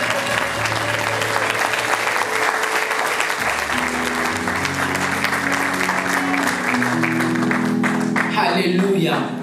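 A church congregation bursts into sustained, loud applause and cheering in praise of God, dense clapping filling the space while a voice carries on over it.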